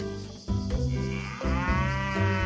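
A cow in the farm game Doraemon Story of Seasons gives two long, loud, close moos in succession, the second rising and drawn out, with no talking over it.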